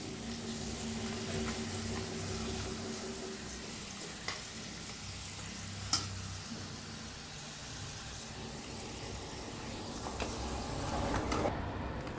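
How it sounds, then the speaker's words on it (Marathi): Rice flour papdi frying in hot oil in a large kadhai, a steady close crackling sizzle with occasional sharp pops and a swelling bubbling burst near the end, no talk. "आता तुम्हाला तळून दाखवते मी कसे बनले ते."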